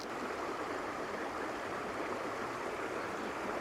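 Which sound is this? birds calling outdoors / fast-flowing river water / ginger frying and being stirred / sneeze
fast-flowing river water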